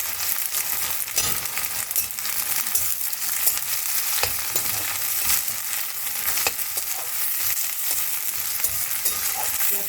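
Chopped onions fry in oil for a chickpea curry, giving a loud, close, continuous sizzle, with scattered crackles and the occasional scrape of stirring.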